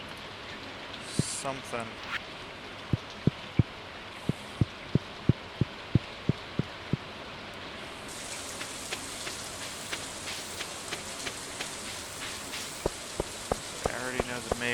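Steady rain patters down during a rainstorm in the farming game Stardew Valley, with a string of sharp rhythmic ticks and taps over the hiss. A person speaks briefly.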